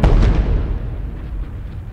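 A heavy, pointed penetrating bomb, a prototype bunker buster with a small explosive load, detonates underground after boring through metal, brick or concrete. It sounds like a single deep, loud boom that rumbles and fades over two seconds.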